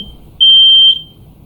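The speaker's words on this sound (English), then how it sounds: "So that was the smoke alarm." A smoke alarm going through its self-test emits one loud, piercing high-pitched beep of about half a second, close by, with quiet room tone before and after.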